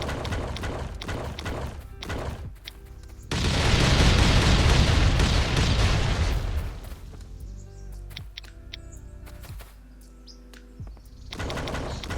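A grenade goes off in the survival game Last Island of Survival as a loud, broad burst lasting a few seconds. Sharp clicks and game effects come before it, and quieter rumbling follows.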